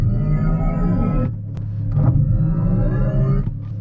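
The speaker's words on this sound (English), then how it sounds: "you can do a race start and listen" Race start in a Mercedes-AMG EQS53 electric car, a loud low electric drive hum and rumble inside the cabin with the body shaking, swelling and easing over a few seconds with brief clicks.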